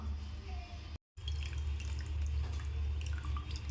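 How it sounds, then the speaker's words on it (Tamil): Tamarind pulp is squeezed and its water poured into tomatoes in a home kitchen, giving close, continuous dripping and trickling of liquid with a brief silent gap. "கரைச்சிட்டு இந்த சக்கையை பிழிஞ்சு எடுத்துடலாம். எடுத்துட்டு இந்த புளி தண்ணியை அந்த தக்காளியோடு சேர்த்துக்கலாம்."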